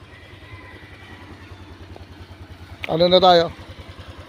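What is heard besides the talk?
Honda Click motorcycle engine warming up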